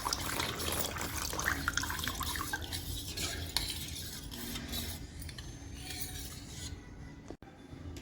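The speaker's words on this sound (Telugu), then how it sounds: "ఇప్పుడు దీంట్లోకి తగినంత వాటర్ పోసేసుకోండి." Water poured into a buttermilk stew mixture, a steady close splashing stream running for several seconds before cutting off, with faint stirring and a sharp knock near the end.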